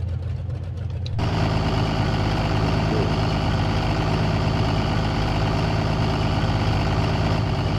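A diesel car engine in BeamNG starts up and then idles steadily, loud and close, with a dense, even rumble that holds unchanged for several seconds.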